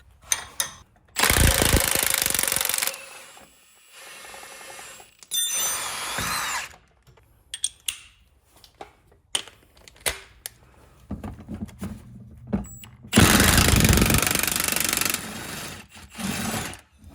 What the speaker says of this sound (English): now we can go ahead and remove the shocks, and we'll be needing an 18mm socket and wrench for that